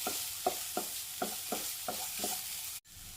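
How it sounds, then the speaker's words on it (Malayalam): Ghee sizzling steadily in a pan while ingredients are sautéed for payasam, with a spoon stirring and scraping in a regular rhythm of about seven strokes, close and moderately quiet, no talking. "നല്ലപോലെ ഒന്ന് വഴറ്റണം ഈ നെയ്യ് ഒന്ന് നല്ലതുപോലെ വഴണ്ട് വരണം"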